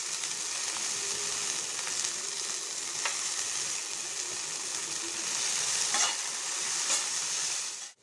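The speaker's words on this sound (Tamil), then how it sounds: "முட்டைக்கோசையும் பச்சை பட்டாணியும் சேர்த்து நல்லா வதக்கிக்கோங்க" Shredded cabbage and green peas sauté in a pan for cabbage fried rice, a loud, even sizzle with occasional scraping stirs, no voices.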